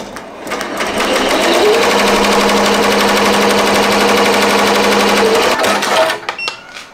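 A sewing machine stitches an appliqué onto a hoodie in a loud, rapid, continuous mechanical chatter lasting about five seconds, then winds down to a few quieter clicks.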